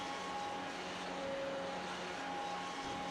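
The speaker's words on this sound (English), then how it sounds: "Wow, listen to that engine note." A race car engine in an iRacing Grand Prix race at Imola drones with a steady, faint tonal note at a constant pitch, alone with no talking.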